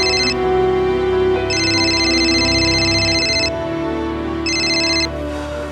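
A telephone rings in a Mumbai police station during a crime drama, sounding in repeated electronic bursts with short gaps between them over a steady low hum of background noise.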